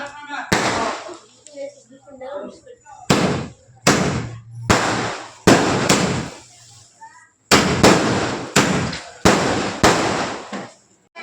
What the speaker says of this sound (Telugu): ఇప్పుడు క్రాకర్స్ అయ్యాయి కదా, ఆ క్రాకర్స్ అయితే 30 పేలాయి లేదనేది మీరైతే కౌంట్ చేయండి